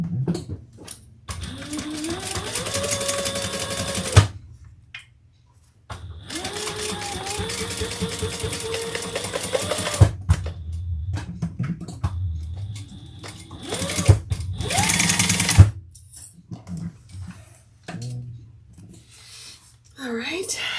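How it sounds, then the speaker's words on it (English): A sewing machine stitches the side of a lining in several long runs of fast, steady whirring, close and loud, with short pauses and brief speech between runs. "let's sew that side"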